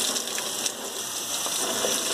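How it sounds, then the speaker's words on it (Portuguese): Water sprayed from a hose onto the bumper and radiator of a Ford F250 pickup, a steady, loud broadband hiss of spray with no pauses. "lá no meio aqui do para-choque também dá pra você jogar água."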